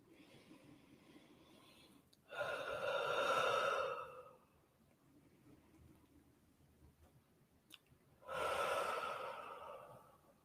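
Slow meditative breathing, with a long audible inhale and a long exhale, then a pause of quiet and another long breath, close and soft with no talking.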